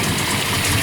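A 1967 dual quad Hemi V8 runs in its engine bay, a loud, close, steady rumbling idle with dense mechanical roar and no voices.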